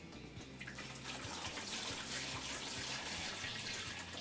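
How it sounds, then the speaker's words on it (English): Clean tap water pours steadily from a pitcher into a container, a continuous close splashing gush that holds even and unbroken throughout. "you're going to take a pitcher of clean water from your tap"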